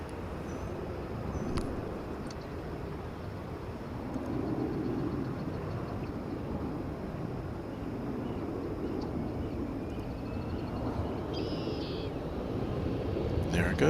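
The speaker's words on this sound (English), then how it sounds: "It's an A320. This one's headed to Las Vegas on Runway DFW." An Airbus A320 airliner on a runway at DFW airport gives a faint, distant, steady jet roar that slowly swells, heard from afar with some outdoor ambience.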